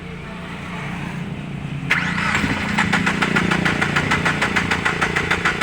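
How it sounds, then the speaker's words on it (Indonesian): A Chevrolet Lova engine with leaking injectors is cranked on the starter after a low steady hum; a sudden jolt brings rapid, loud, rhythmic pulsing that continues to the end, close to the engine. "Ini kita coba starter, kita cek di bagian kebocorannya, bagian mana saja injektornya yang mengalami bocor. Nah, kita coba starter mesinnya."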